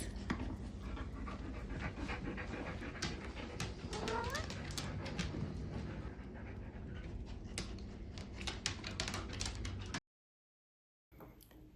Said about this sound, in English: And then over here, we have an Indy cat.